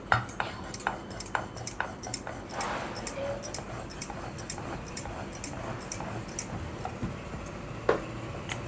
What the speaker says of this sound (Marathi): आता गोळ्यात पीठ लावलं आणि हा आता आपण लाटून घेऊया